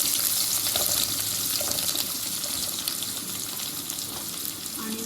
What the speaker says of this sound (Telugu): బాగా గోల్డెన్ కలర్ వచ్చే వరకు ఫ్రై కావాలి. ఆనియన్స్ ఈ మొత్తం ఫ్రై అయితే చాలు.